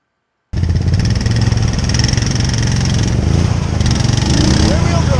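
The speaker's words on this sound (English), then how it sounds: "Super impressed with the power on this bike and the torque." XMR Renegade 1K ATV engine running loud and close, starting abruptly and holding a steady rough drone with wind buffeting throughout.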